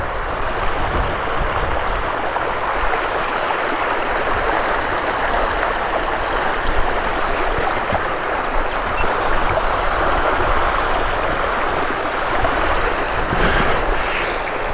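Water gushes steadily from a broken water pipeline at Karachi University, a dense, continuous roaring rush that holds at a loud, even level throughout with no pauses.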